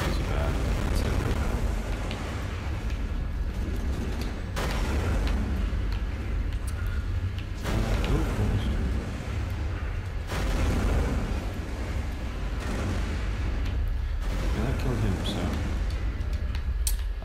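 Modded weapon in Borderlands 2 firing in short bursts, dense booming blasts repeating in clusters at a steady loud level over a constant low rumble, with faint talk underneath.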